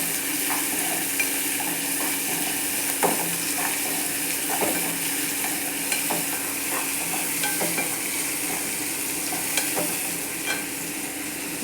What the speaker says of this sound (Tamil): உப்பு சேர்த்து நல்லா வதக்கி விட்டு